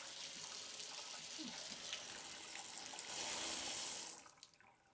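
Steady hiss of water pouring from an electric instant tankless water heater into a bathtub, a constant close rush that swells briefly louder near the end before tapering off.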